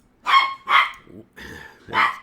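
Several loud, close dog barks in quick succession, four sharp yelps with short pauses between them and no talking.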